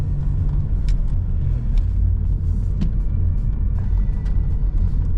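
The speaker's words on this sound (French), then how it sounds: "Par contre là en relance, on sent que le V6, ah oui." An Alfa Romeo Brera 3.2 V6 JTS Q4 engine pulls hard under acceleration, a loud, steady, deep rumble heard from on board with no voices.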